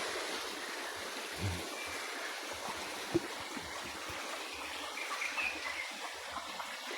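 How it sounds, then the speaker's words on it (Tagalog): A quiet, steady rush of flowing river water fills the background, with a few faint splashes and trickles. "May ilog nga pala dito sa gilid namin"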